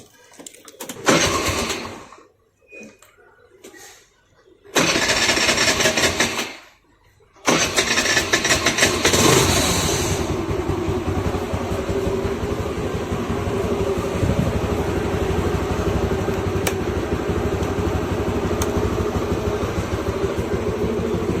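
A Bounce electric scooter powers on with a few short bursts separated by silence, then settles into a steady hum and whine that runs on evenly at close range.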